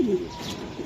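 A racing pigeon gives a short low coo up close, a single soft throaty call that fades into quiet room noise.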